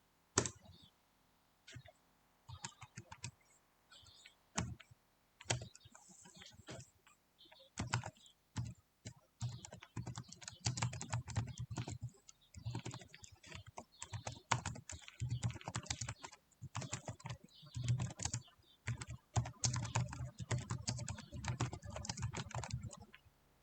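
Keys clatter on a computer keyboard in long, fast typing runs, soft and close, broken by brief pauses, with a few faint bits of speech in the background.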